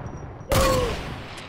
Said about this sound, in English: Are you using the heavy sniper?